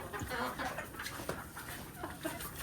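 A desi hen clucks in short, scattered bursts close by on a small poultry farm, with a voice and farmyard noise in the background.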